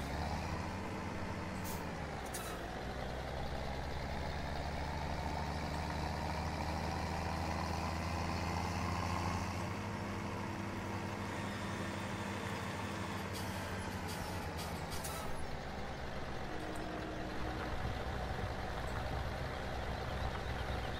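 A tractor engine runs steadily in Farming Simulator 17, a continuous low, droning rumble with a constant hum and a few faint clunks over it.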